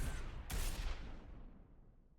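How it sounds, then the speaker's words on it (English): Gunfire from a video game: one sharp burst near the half-second mark with a long rumbling decay, fairly faint and with no voices. "Gunfire game."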